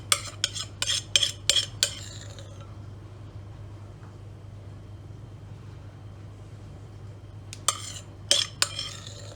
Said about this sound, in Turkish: Birazdan onu pipetle karıştıracağım ben